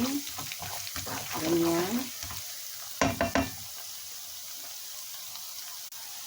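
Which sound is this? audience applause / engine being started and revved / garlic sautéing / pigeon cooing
garlic sautéing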